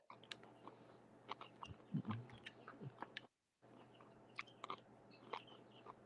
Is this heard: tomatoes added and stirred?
no